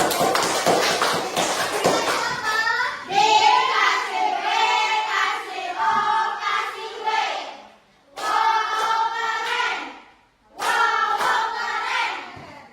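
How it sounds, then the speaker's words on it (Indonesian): A classroom group claps loudly and densely for a few seconds, then voices take over in a rhythmic group chant with short pauses between phrases. "Beri tepuk tangan untuk"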